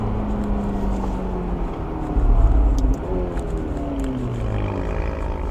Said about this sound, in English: we can enjoy the V8 sound